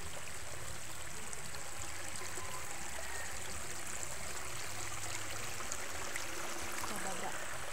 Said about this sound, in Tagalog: Nakita niyo yung falls dyan. May talon dyan. Parang falls.